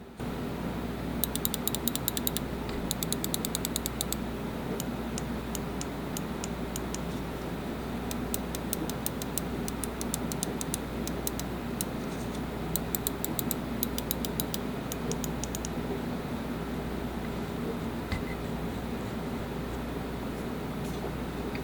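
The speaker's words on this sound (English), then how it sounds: "now we're going to start a clicking" Buttons on an AM Infinity Mirror Shadow Limited gaming mouse are clicked in rapid bursts, close crisp ticks in clusters separated by short pauses over a low steady background hum.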